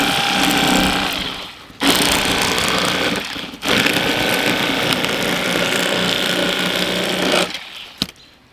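A cordless electric fillet knife buzzes loudly and steadily while cutting a fish, running in long continuous stretches broken by two brief pauses and a final stop.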